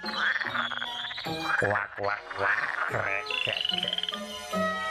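A frog croaks in a quick run of loud, close, throaty calls that rise and fall in pitch, heard alone with no talking.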